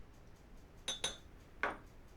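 A spoon clinks against a Pyrex measuring cup while stirring nutmeg, ginger and clove into ale, with two quick close taps followed by one more a moment later over quiet room tone.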